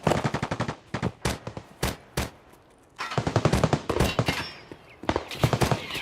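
Gunfire in Escape from Tarkov comes in rapid automatic bursts, with sharp, evenly spaced shots in quick strings. Single cracks follow, then a pause and another long burst of close, loud fire.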